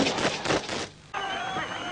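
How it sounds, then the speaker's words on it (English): Masked gunmen fire a volley of shots over coffins at an IRA funeral in Ireland, a burst of close cracks with the crowd murmuring around them. "masked gunmen fired a volley of shots over the coffins"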